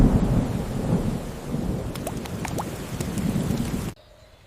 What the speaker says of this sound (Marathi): Rain she is on her way.